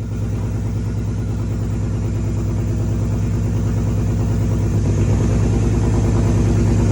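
A BMW E30 M3 fitted with an S54 engine pulls away in first gear, its steady close-up engine drone rising slightly in loudness as the car moves off, with no talk over it.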